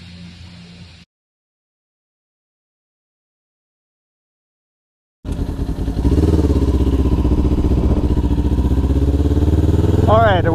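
Motorcycle starting up and heading out onto the Thunderhill West track on a track day, its loud, close engine droning steadily after a short silence, with a person talking over it.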